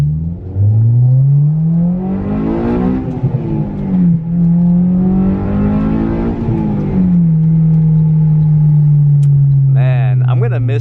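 A 2008 Honda S2000 with an aftermarket exhaust revs up and down in long swells with a throaty exhaust note, loud and close, then settles to a steady drone.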